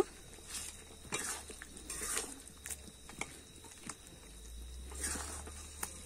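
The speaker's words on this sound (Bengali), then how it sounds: "তাহলে এবার একটু আমি নেড়ে চেড়ে নেব।" Spinach chicken curry with garam masala being stirred in a pan, giving soft scattered scraping and patting clicks of a spoon against the pan, with a faint sizzle underneath and no talk.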